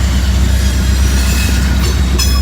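Coal train rolling past on railroad tracks close by, a loud steady rumble of cars and wheels with faint squealing toward the end, no voices.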